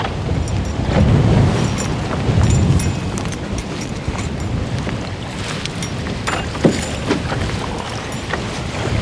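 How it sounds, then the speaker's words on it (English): A boat's outboard motor drones steadily at full throttle over choppy water in a storm, making little headway against strong wind buffeting the microphone, with occasional splashes and knocks. "The outboard's going full pelt, and I'm not really going anywhere."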